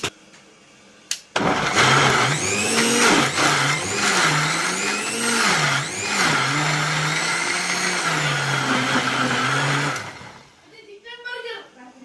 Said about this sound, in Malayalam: ഇത് ഈ മിക്സിക്കകത്തൊന്ന് കറക്കുന്നത്